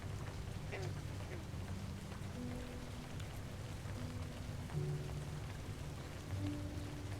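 Steady pouring rain patters in the video game A Story Beside, a soft continuous wash with faint tonal game sounds drifting in and out over it.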